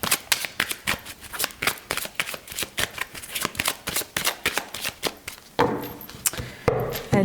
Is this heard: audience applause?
no